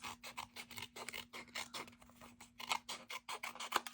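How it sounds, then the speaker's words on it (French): Scissors snipping through recycled paper for handmade cards, a rapid steady run of short crisp cuts heard close and fairly quiet, with no speech. "on va découper beaucoup plus"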